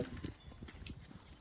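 Horse hooves clip-clop during a showjumping round, a quick run of faint, moderately distant beats under steady background noise.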